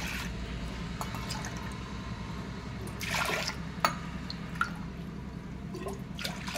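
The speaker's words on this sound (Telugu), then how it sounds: "ఒక గ్లాస్ పప్పుకు 3 గ్లాసుల వాటర్ వేయాలండి." Water poured from a glass into lentils for cooking bottle gourd dal, heard as quiet splashes, drips and a brief louder pour, close by against a faint background.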